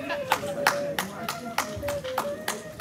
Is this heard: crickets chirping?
no